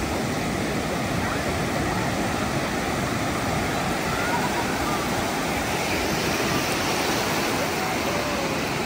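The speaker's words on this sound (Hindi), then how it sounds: "काफी पानी छल आ रही है बन बन के बढ़िया बढ़िया" Beach waves roll and splash continuously at the shore in Christchurch, New Zealand, a steady broadband wash with a faint voice or two mixed in.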